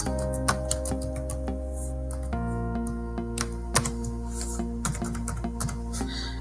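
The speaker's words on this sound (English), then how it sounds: "So I type in the name." A computer keyboard types in a name during a Windows Server setup, with irregular light key clicks over a steady tonal hum in the room.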